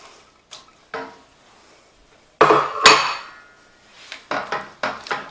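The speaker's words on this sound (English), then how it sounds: "I'm going to whisk this vigorously once in a while in order to help the cheese melt into it" A whisk clanks and scrapes against a pan of cream cheese sauce for keto Swedish meatballs, in irregular bursts of sharp metallic knocks separated by quieter pauses, close and fairly loud.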